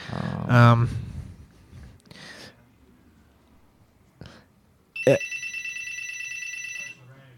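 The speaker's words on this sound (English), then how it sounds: "I'm getting a phone call." A telephone rings with a loud electronic trill that starts partway through and holds for about two seconds, after earlier bursts of breathing-like noise and a sharp knock.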